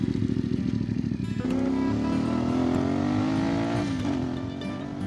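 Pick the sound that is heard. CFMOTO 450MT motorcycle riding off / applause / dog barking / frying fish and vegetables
CFMOTO 450MT motorcycle riding off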